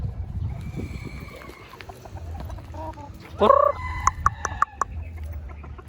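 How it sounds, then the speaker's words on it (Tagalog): A white kelso rooster and backyard chickens in Parañaque cluck and call nearby, with one louder squawk midway followed by sharp, scattered clucks over low background rumble. "Ito yung white kelso ni tatay."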